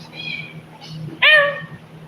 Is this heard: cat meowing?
yes